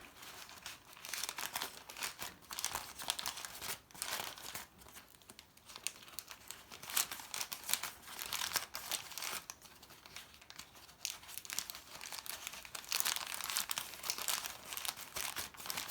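Plastic pieces are handled and bunched together while a spring chick pom-pom craft is made, giving a close, continuous crinkling and crackling that swells and fades with each handful.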